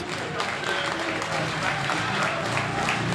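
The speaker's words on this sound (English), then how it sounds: "the new Pirates favourite, Tom Brennan, taking the ripple of applause from the grandstand." A ripple of applause rises from the grandstand at a speedway meeting, distant, diffuse clapping over crowd murmur and open-air background.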